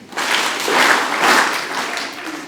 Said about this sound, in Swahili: Naomba tuwapigie makofi.